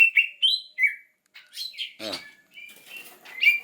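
Small caged songbird chirping and tweeting in quick, bright bursts with brief wing flutters, close up and clear, without talk over it.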